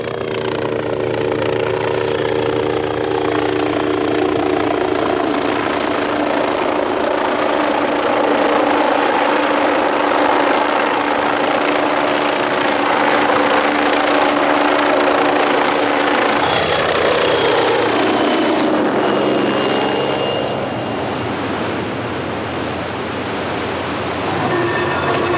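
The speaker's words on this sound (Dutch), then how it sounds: "Kleine helikopters brengen meer pompmateriaal aan boord." Small helicopters flying over an oil tanker at a shipwreck salvage at sea make a loud, steady rotor and engine roar that shifts in pitch partway through as one passes. No voices are heard.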